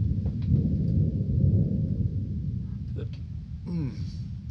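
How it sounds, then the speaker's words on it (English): Low, rolling thunder effect from a 1930s radio drama, rumbling steadily through the whole stretch with a heavy low-end swell, set in a quiet spruce forest before a storm, with brief voice-like sounds near the end. "That thunder means a storm's brewing."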